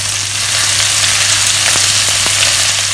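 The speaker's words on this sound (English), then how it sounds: "Fish head, skin down. We're just going to brown them." Fish heads browning skin-down in a hot pan for a Teochew fishball noodle soup, a loud, steady sizzle and crackle that fills the whole stretch with no voices.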